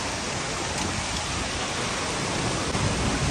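Vernal Falls in Yosemite Valley roars close by, a dense, steady rushing of water and spray that sounds like heavy rain and fills the scene without a break.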